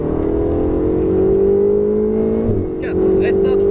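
Ferrari 488 GTB at full throttle on a circuit, its engine note rising steadily and loud, dipping briefly at a gear change before climbing again, with a voice speaking over it.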